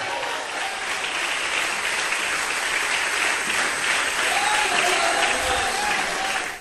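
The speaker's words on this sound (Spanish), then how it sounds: "Denle un aplauso a Dios, déselo fuerte." A church congregation claps together for God during a sermon, producing a dense, steady wash of applause that holds for several seconds, with voices faintly mixed in.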